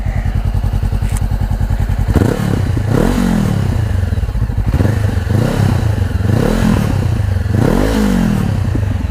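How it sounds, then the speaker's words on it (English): A 2016 Honda CBR500R with an aftermarket Akrapovic exhaust revs repeatedly, each blip of the throttle followed by crackling, popping exhaust bursts over a steady, close idle. "Snap, crackle and pop with the exhaust."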